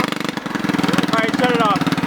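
A Predator 212cc go-kart engine fitted with a race header revs up loudly and close, a dense throbbing exhaust note climbing from idle with rising harmonics over two seconds, with no talking.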